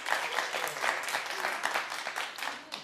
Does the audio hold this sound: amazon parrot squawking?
no